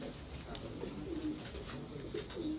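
Big-sized pigeons coo on a Karachi rooftop in Paposh Nagar, with low throaty calls repeating in loose overlapping waves, moderately close and fairly quiet against faint background noise.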